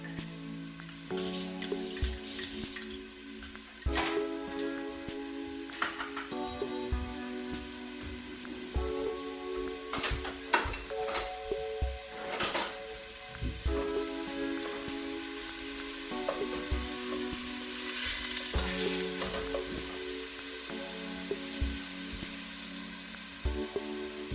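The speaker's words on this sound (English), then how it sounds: "I'm going to add my onion. I'm going to add a tablespoon of garlic." Onion and garlic sizzle in a pot for butternut squash soup, with a steady frying hiss and occasional louder crackles and stirring scrapes. Music-like tones run underneath, and no one speaks.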